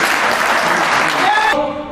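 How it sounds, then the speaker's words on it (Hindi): Crowd applause greets a speaker named at a Bhim Army Bharat Ekta Mission rally in Roorkee, Haridwar; dense, steady clapping fills the moment near and loud before tapering off at the end. "जोरदार तालियों से इनका स्वागत करें"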